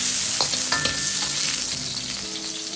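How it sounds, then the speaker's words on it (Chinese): Strips of pork belly fry in oil in a wok over medium-low heat, giving a loud, steady sizzle with a few stirring scrapes, with no talk. "下入五花肉丝，保持中小火煎煸，炒出肉里边多余的水分"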